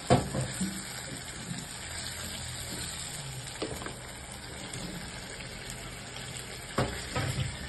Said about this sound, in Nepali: यतिको मसला भइसकेपछि चाहिँ अब हामी यसमा मासु एड गर्छौँ